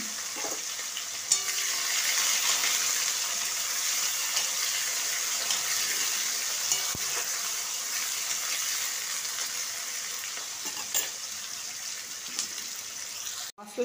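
Sliced onions frying in hot oil with bay leaf, cinnamon, cloves and small cardamoms: a steady, bright sizzle that runs throughout, with occasional light clinks and stirring scrapes, and no voices.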